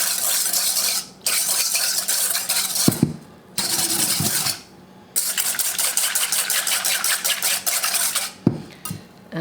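A quarter cup of ingredients is stirred into a mix for homemade paint, making a close, rhythmic scraping and clinking of a utensil against a container, broken by a few short pauses.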